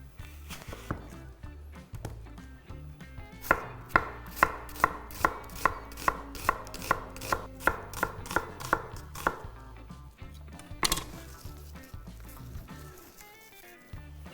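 Rapid, evenly spaced knife strikes chop an onion on a cutting board, a steady run of sharp close taps in the middle with a few scattered cuts before and after.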